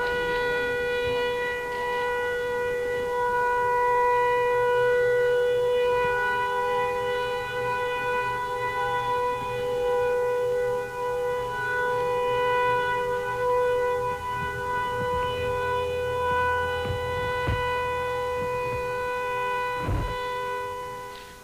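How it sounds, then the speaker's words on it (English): An air raid siren sounds in Dhahran, Saudi Arabia, during the 1991 Gulf War, holding a loud, steady wail for the whole stretch, with faint background rumbles and a few thuds near the end. "There was an air raid siren that went off in Saudi Arabia"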